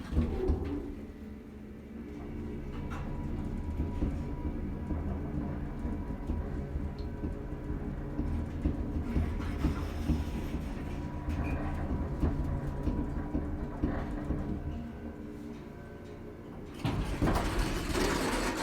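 The motor of a 1976 Otis Lexan hydraulic elevator runs with a steady low hum and rumble, joined by faint clunks and a louder mechanical thump near the end.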